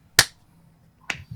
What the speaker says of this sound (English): so we'll do the clap